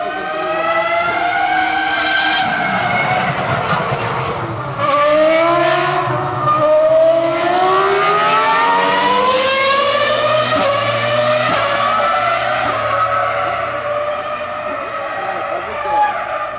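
A Ferrari Formula 1 car with a V10 engine passing on the Fiorano test track, its high-pitched shrieking engine note sweeping up and down through gear changes, loud and fairly near, with a voice briefly heard beneath.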